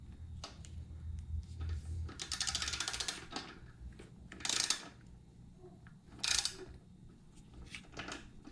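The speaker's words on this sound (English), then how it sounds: "We'll go ahead and torque this down." A torque wrench ratcheting down a fuel tank bolt on a Harley-Davidson Sportster 883, rapid close clicking bursts with a few sharper metallic clacks amid workshop handling noise.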